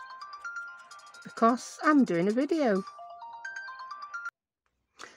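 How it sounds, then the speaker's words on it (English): A phone ringtone plays a repeating melodic pattern beside a woman fussy cutting paper for a junk journal, with her speech cutting in over it midway before the ringing resumes and then stops. "I just paused a bit while it finished ringing."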